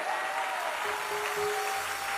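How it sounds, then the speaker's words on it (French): Church congregation applauding and cheering in a large hall, a dense continuous wash of clapping with a few whistles on top, loud and sustained with no speech. "qu'on acclame très fort"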